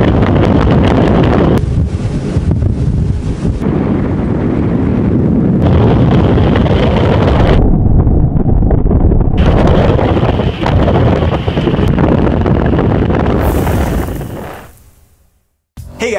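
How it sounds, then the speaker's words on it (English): Boat ride on open water with heavy wind buffeting the microphone, a loud continuous roar of rushing air and engine-driven motion that drops out abruptly near the end. "Let's go for a boat ride."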